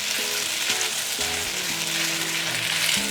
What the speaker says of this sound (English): once the oil is heated up, you can actually put in the kuay tiaw